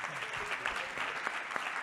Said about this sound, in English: give the brother his claps